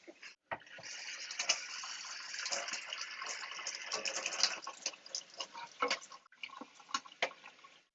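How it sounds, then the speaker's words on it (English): Water poured from a container into small holes in a DIY terraplanter to wet them before seeds are sown, a steady close splashing trickle with brief breaks and shifting pours, no talking. "I'm actually going to wet them before I put the seeds in"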